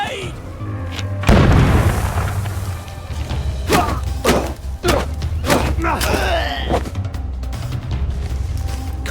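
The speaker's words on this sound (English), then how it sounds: "Grenade!" Grenade blast in the We Happy Few video game, a loud deep boom followed by a string of thuds and impacts amid game noise, with voices shouting over it.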